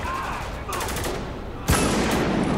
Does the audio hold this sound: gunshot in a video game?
yes